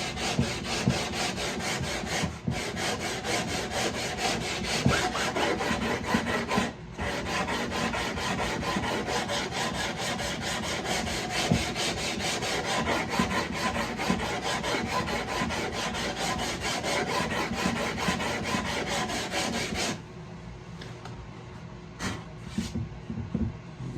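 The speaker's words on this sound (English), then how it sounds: "So I think sanding just a little bit is not going to make a difference." Continuous rhythmic sanding of a wooden guitar neck, a steady rasping scrape that keeps going, then softens near the end.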